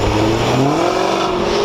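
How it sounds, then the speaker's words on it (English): A Range Rover Sport V8 fitted with a modified exhaust, its middle resonators removed and an X-pipe installed, revs loudly and close by, the engine note sweeping up in a continuous roar with no talking. "Here's the best sounding Range Rover Sport"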